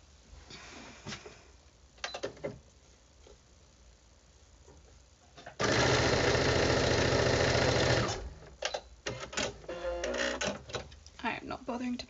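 A sewing machine stitches quilt blocks together in one loud, continuous run of about two and a half seconds. Quiet handling noises and a voice come before it, and further clicks and fabric sounds follow.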